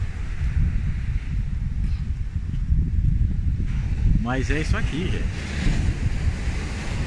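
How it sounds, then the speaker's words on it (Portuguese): Waves crash against the shore on a nearly empty beach at Marataízes, a steady roar of surf with wind buffeting the microphone, while a person talks over it. "ver se vocês conseguem ouvir o mar batendo"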